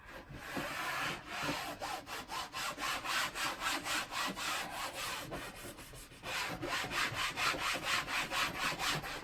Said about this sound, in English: Let's try scrubbing.